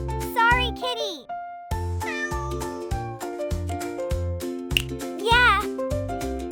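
A house cat meows several times, close and clear, with a voice and other speech mixed in over a kitchen background.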